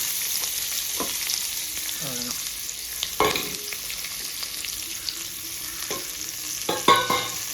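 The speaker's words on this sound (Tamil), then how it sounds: "சின்ன வெங்காயம், பச்சை மிளகாய், சீரகம், பட்டை மிளகாய் இதெல்லாம் வதக்கிறப்பயே நல்ல ஒரு வாசனை வரும்." Shallots, green chilli and cumin sauté in a pan with a steady oil sizzle, broken by several scraping stirs of a spoon. A voice briefly speaks near the end.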